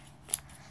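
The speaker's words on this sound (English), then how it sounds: "So I've got a pair of scissors again" A pair of scissors snips while a QJ Pyramix puzzle is being unboxed, giving a brief, close metallic cut followed by another quick snip at the end.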